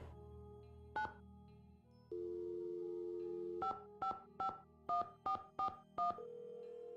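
Telephone keypad dialing in a Nancy Drew mystery video game: a dial tone is followed by a quick series of about eight crisp touch-tone beeps in an uneven rhythm, clear and alone with no talking.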